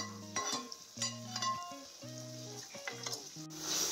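Mutton curry sizzling and frying in a pan while being stirred and mixed, a steady hiss with scraping stirs under a tonal, melodic background.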